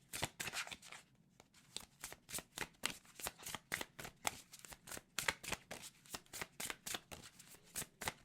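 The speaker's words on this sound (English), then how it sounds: "I want to pull some other cards too." Spiritual oracle cards are shuffled by hand, a close, rapid run of crisp riffling flutters repeating in a steady rhythm with brief pauses, with no talk over it.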